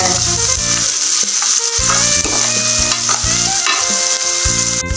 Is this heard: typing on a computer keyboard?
no